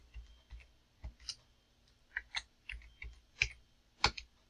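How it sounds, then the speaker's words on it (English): Quiet, irregular clicks of keys being typed on a computer keyboard, scattered taps with short pauses between them, close by. "you're going to press the A and then start typing"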